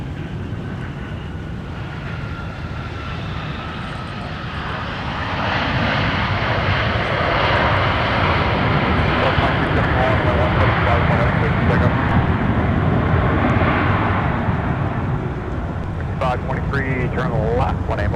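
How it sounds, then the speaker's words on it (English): An Endeavor Air airliner from Knoxville, Tennessee touches down at MSP airport in winter, its engines a steady roar that swells louder partway through, while a voice talks over it and wind buffets the microphone. "we got Endeavor Air just about to touch down from Knoxville"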